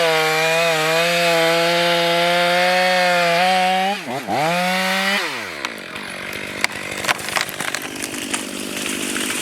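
A chainsaw bore-cuts into a leaning tree during felling, its engine holding a loud steady whine, dipping briefly, then bogging down into gritty, uneven cutting noise as the bar sinks into the wood.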